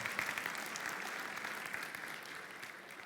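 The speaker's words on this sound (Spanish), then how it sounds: "Den un aplauso al Señor y agradezca que el Señor lo eligió." A church congregation applauds during a sermon, a soft, distant wash of steady clapping from many hands lasting about three seconds.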